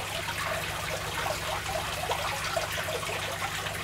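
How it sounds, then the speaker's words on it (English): Aquarium water trickles steadily back into a tank of pygmy corydoras, a continuous close hiss with a low hum beneath it. "Just slowly let some of the water from there go back in."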